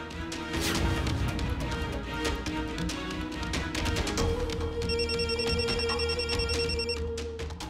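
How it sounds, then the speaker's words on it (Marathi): A phone ringing in a Marathi TV drama episode, a repeated electronic ring pattern over background sounds, growing more insistent and tonal in its second half, with no talking. "बघ, सतत फोन येतोय म्हणजे काहीतरी महत्वाचं काम असणार."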